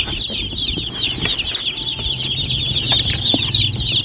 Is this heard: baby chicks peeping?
yes